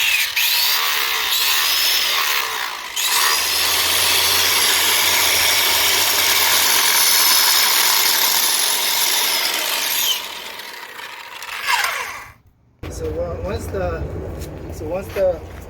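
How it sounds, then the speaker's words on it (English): A circular saw fitted with a big blade grinds through backyard concrete pavers in a loud, sustained cut that runs for about ten seconds before spinning down, with a voice speaking afterward. "we need to just cut the pavers, and I have this circular saw with a big blade"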